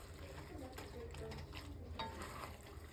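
Sausage cavatappi pasta folded and stirred in a pan, a steady soft scraping and shuffling with faint clinks of utensil on cookware, continuous at close range for the whole stretch.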